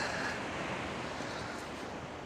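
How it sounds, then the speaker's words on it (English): Ocean surf rolls onto a beach at Kuantan, Malaysia as a steady broadband wash, fairly faint and continuous with some wind noise and no talking. "We're on the beach. If you can't hear the waves, we'll show you here in a second."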